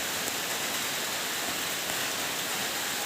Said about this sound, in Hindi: तो गाइस ये देखो बारिश आ रहे हैं